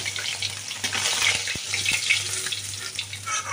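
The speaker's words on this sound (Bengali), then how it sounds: "এইভাবে সব মাছগুলোই ভেজে নিচ্ছি।" Katla fish pieces frying in oil, a continuous bright crackling sizzle with a few soft knocks, close and fairly loud, no voices.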